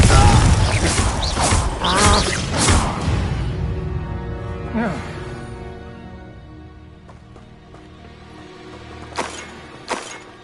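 The Confringo blasting spell cast in Hogwarts Legacy, a loud burst of crackling impact and debris at the start that decays into a ringing, shimmering tail, followed later by a couple of sharp smaller hits.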